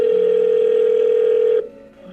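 A telephone handset hung up, leaving a dial tone: a loud, steady single-pitch tone that cuts off abruptly near the end, followed by a quiet low hum.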